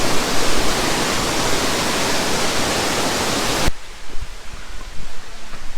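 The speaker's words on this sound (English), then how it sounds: "let's enjoy the breeze of the waterfall" Elephant Falls waterfall in Shillong, Meghalaya, gives a loud, steady broadband roar of falling water that fills most of the moment, then cuts off abruptly to a much quieter outdoor ambience.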